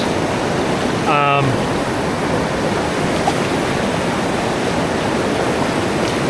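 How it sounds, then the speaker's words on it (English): The first rapid on the Hiwassee River below the Towee Creek put-in rushes as a loud, constant broadband roar of whitewater at low flow, with a short tonal chirp early on. "It's the first rapid that you get to on the Hiwassee after you get on at Towee Creek"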